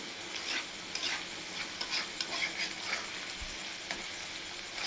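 Beef tripe frying in a pan with garlic, stirred constantly as it turns a little sticky, giving a steady close sizzle broken by repeated scraping and clinking strokes of the spoon against the pan.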